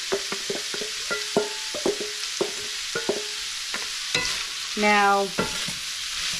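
Vegetables fry with chorizo in a pan, a constant close sizzle broken by repeated clinks and scrapes of stirring and one brief louder rattle, with a single spoken word at the start.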